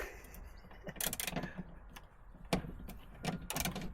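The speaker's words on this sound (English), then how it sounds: "we're going to use a ratchet to take that off" A ratchet works on an 8mm bolt holding plastic trim on a Volvo XC70 rear light area, giving a few sharp clicking bursts with quiet gaps between them, fairly close and moderately loud.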